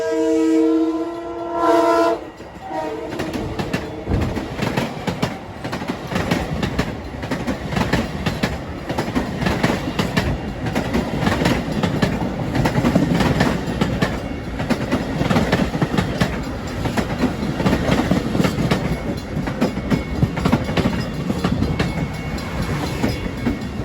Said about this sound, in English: Comes a westbound M3 over the crossing. We got an eastbound Huntington train departing behind me.